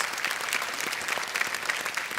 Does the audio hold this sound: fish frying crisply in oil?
no